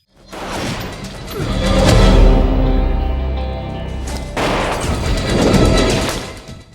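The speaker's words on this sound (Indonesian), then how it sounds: "apartemen yang awalnya sunyi langsung dipenuhi suara letusan tembakan dan desingan peluru" Gunfire and whizzing bullets in an apartment shootout in a Hong Kong mafia film, loud booming crashes and swooshes in two long surging bursts separated by a brief drop.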